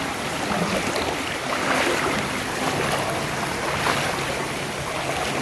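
Deep rainwater floods a street in Sangam Vihar, Delhi, and someone wades through it, making continuous loud sloshing and rushing water noise with wind buffeting the microphone.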